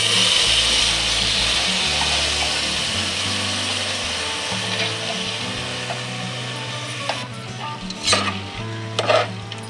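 Soaked moth beans tumble into an onion masala frying in oil, giving a steady sizzle and frying hiss close up, followed by a few scraping, clattering stirs near the end.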